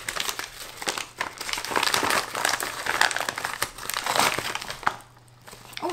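Parcel packaging being torn and crinkled open by hand without scissors, close and continuous rustling, crumpling and ripping with brief pauses and a short quiet gap near the end.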